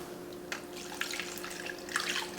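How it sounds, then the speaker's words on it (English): Water poured into a pressure cooker holding ribs, an uneven splashing stream of about four cups building in a few surges, heard alone up close. "Let's add some water."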